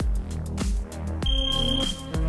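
Interval timer for an MMA conditioning workout sounding a repeated tonal electronic beep, with pulses recurring about every half second and a steady high tone holding through the latter part, loud and alone with no talk.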